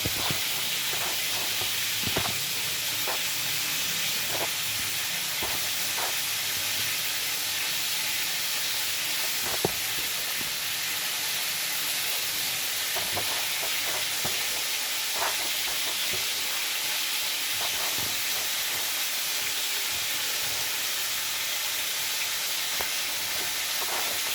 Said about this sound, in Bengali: এবার আমি ফুলকপিটাকে ভাজছি